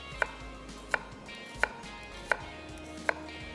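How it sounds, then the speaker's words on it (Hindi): A knife chops an onion on a cutting board for white biryani, five sharp evenly spaced taps about every seven tenths of a second, close and clear over a quiet kitchen background. "हमें चाहिए इसमें प्याज को जो है चॉप कर लेते हैं"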